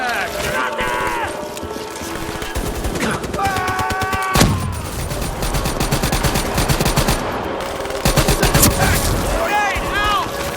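Sustained automatic gunfire and bursts in Call of Duty: Black Ops 3, loud and close throughout, with a heavy blast midway, shouted squad voices and chirping radio effects over the barrage.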